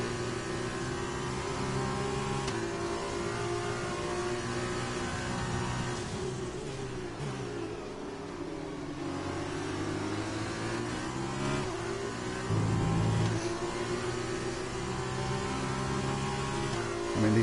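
An F2 race car in F1 2020 revs and accelerates, the engine note climbing and falling through gear changes; a sustained, fairly loud drone with no speech.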